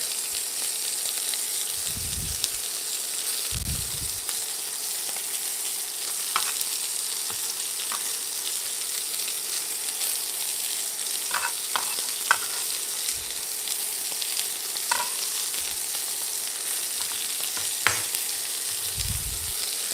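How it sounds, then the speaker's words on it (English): Chopped garlic sizzles steadily in a hot pan beside seared steak, a continuous frying hiss with occasional stirring scrapes and soft low thumps, close and fairly quiet, with no talking. "now I'm going to add my chopped garlic."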